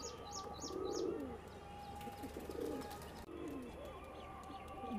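Roshan pigeons, an old-line special pair, coo softly in a loft in a steady rhythm of low repeated calls, with a few higher chirps and faint wing flutters against light background noise.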